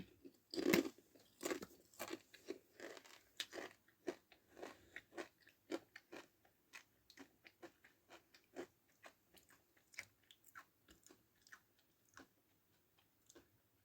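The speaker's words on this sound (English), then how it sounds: "Damn, sorry for chewing." Close-up chewing and crunching of food, with a few loud bites at the start followed by a long run of quieter, rhythmic chews and clicks in otherwise near silence.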